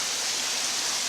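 A small waterfall of about six or seven feet pours down on a creek near the Susquehanna River, a steady broadband rush of falling water, moderately faint and unbroken, with no voices.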